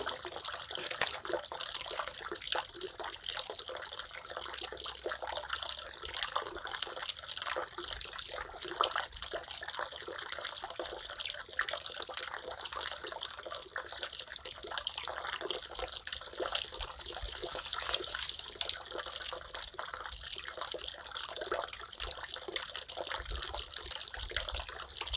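Water tank filling from a flowing pipe in an organic vegetable garden: a steady, loud rush and splash of water that runs unbroken throughout, with no talking.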